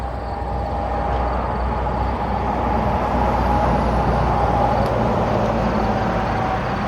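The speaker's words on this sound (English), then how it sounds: "We'll see what this tractor trailer sounds like when we go over." A tractor trailer crossing a loud highway bridge on Corridor H in West Virginia makes a continuous heavy roar of tires and engine, steady and fairly close, with no voices.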